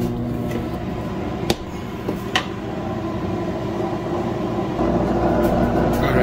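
A steady, droning hum of a running microwave oven cooking fufu fills the space, with a couple of faint clicks along the way.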